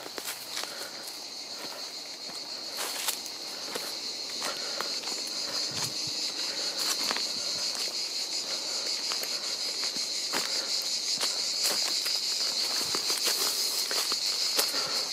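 Cicadas in July near Paris keep up a steady high, buzzing drone beside a garden with beehives, with footsteps and light crunches close by over the continuous background.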